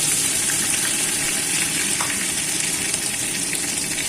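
Bay leaves and chopped ginger sizzle in hot oil for a small-fish curry, a loud, even, continuous hiss close by with an occasional faint crackle.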